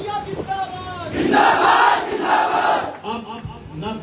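A large crowd at a political rally in Phulpur for Chandrashekhar Azad roars and chants slogans together, with the noise swelling loudly midway before easing off, in a dense and continuous outdoor din.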